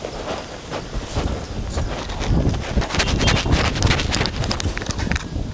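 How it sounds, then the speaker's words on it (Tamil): Gusty wind buffeting the microphone outdoors at a Pongal celebration with a lit stove, rough and roaring, with scattered rustling and clattering underneath, growing stronger midway. "கொஞ்சம் காற்று நிற்கட்டும்"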